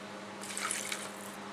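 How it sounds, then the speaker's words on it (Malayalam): Water is poured into a pot holding cucumber pieces and green chillies, a short, quiet splashing gush that starts abruptly and then tapers off into a faint trickle. "ഈ വെള്ളരി വേഗം മാത്രമുള്ള വെള്ളവും കൂടെ ഒഴിച്ചേക്കാം"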